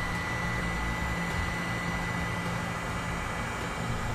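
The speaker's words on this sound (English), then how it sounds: "We'll now use our heat gun to shrink down our butt connectors so that way it'll seal our wires" A heat gun blows steadily while shrinking butt connectors on trailer brake wires, a constant loud whooshing hiss with no change in pitch and no voices.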